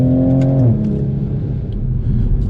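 Toyota Supra engine revving hard during drifting, a loud steady drone with a falling pitch early on, near and continuous with no talk.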